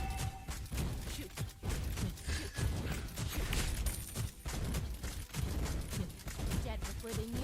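Lesley firing in the Mobile Legends mobile game, a dense, continuous stream of game gunshots and impact effects mixed with busy background game sounds and music.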